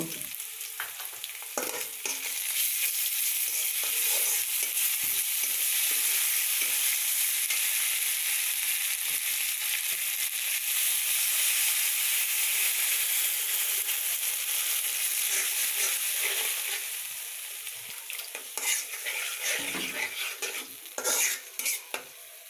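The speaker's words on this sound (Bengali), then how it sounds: "এখন আদা বাটা, রসুন বাটা দিয়ে দিব ও যাবতীয় উপকরণ দিয়ে মশলাটা কষিয়ে নেব" Masala with ginger and garlic paste sizzles steadily in a pan, a continuous close frying hiss with frequent scraping stirs that grow more broken and clattery toward the end.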